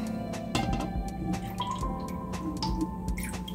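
Lye water pours and drips in a steady trickle during soap making, with small splashes and clinks close by.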